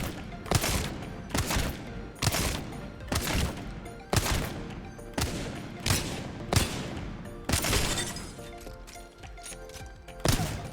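Heavy single pistol shots from the Wingman in Apex Legends, about ten sharp booming blasts fired at a steady rhythm roughly one second apart, loud and close with brief echoing tails.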